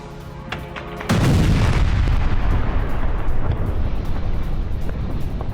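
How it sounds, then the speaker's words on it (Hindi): A drone strike hits a high-rise building in Russia: one abrupt, heavy boom comes after a quiet lead-in, then a long loud rumble that decays slowly. "ये ड्रोन आता है और आके सीधे बिल्डिंग के अंदर अटैक करता है"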